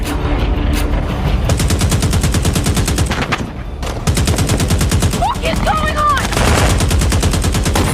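Loud, sustained bursts of automatic gunfire from militants attacking near the Algerian border, rapid repeated shots filling the scene with brief lulls, plus a few whistling tones partway through.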